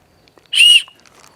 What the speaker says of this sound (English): we have an emergency whistle